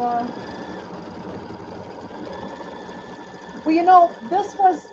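An embroidery machine quilts background fabric with a steady, fairly soft mechanical hum. A voice speaks briefly near the end.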